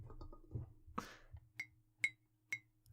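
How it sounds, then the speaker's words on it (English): A finger flicks an empty glass several times, each flick a faint, sharp clink ringing briefly in a quiet room, spaced about half a second apart after some soft handling noise. "That was me flicking it. That's the empty glass"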